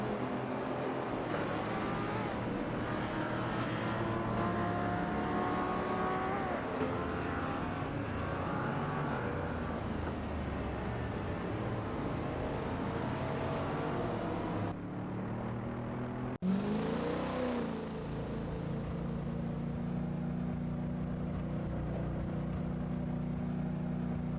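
AI supercars racing around Weatherfield Speedway in a video game, a continuous loud engine roar with rising and falling pitch as cars pass, layered drones from several vehicles and a sharp shift partway through.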